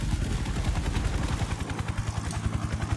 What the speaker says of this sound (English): See, the helicopter is coming.